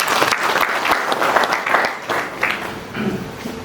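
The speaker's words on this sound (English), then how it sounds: "Can you clap for yourself?" Audience at a business awards gala dinner claps together in a loud, sustained burst of dense applause with scattered sharp individual claps, filling the room for several seconds.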